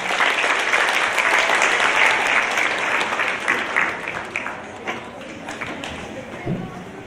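Audience applause for youth leader Sam McCullough, a dense, steady wash of many hands clapping that fills the room and slowly thins toward the end.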